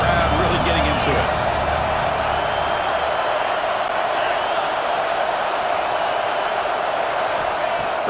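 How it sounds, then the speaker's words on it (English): Dense, steady stadium crowd roar in a college football video game, Michigan Wolverines dynasty mode, loud and unbroken with a constant hum, a few thumps near the start. "Third down and the crowd really getting into it."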